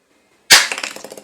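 A single sharp, loud pop from a toy shotgun firing a soft bullet breaks a silent start, followed by a short series of fading rattling clicks.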